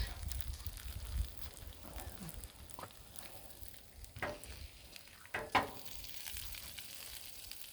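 Bacon sizzles faintly on a griddle as a soft, continuous crackle, broken by a few scrapes and taps of a spatula.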